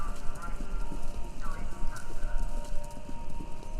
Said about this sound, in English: It sounds like horses. Horses running? A race?